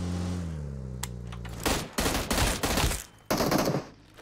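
Gunfire in PUBG Mobile crackles out in rapid bursts, several loud close volleys of automatic fire over about two seconds, following a tail of engine hum.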